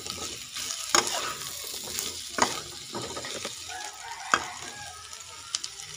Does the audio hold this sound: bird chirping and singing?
no